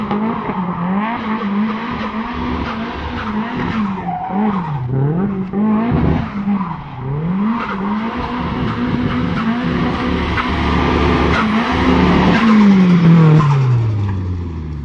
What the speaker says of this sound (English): Oh, the turbo!